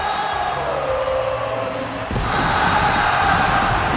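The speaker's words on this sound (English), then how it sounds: "And you heard the woes from the crowd, folks" An arena crowd in the WWE 2K wrestling game lets out a rising collective whoo of cheering, with a thud midway before the crowd noise swells louder.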